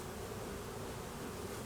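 Honey bees buzz during a January hive inspection, a dense continuous hum of many wings close by and quiet, with no voices.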